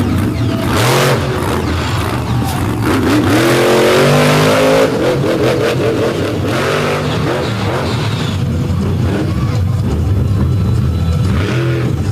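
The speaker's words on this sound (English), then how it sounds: "540 cubic inch Richard Midget engine in the back of this thing with the electronic fuel injection." A race car with a 540 cubic inch Richard Midget engine and electronic fuel injection roars loudly while running through mud, revving up and down close by amid a dense rushing noise.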